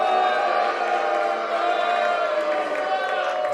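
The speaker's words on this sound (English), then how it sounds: "This crowd letting him have it." A boxing crowd jeers a 240-pound Kansas City heavyweight during his ring introduction, a dense, sustained roar of voices filling the hall at a steady loud level.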